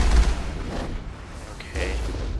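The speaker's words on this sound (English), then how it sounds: "Rockets in my face." Rockets exploding in the Mass Effect video game, heavy booming blasts close by with rumbling low-end, a strong hit at the start and another swell near the end amid battle noise.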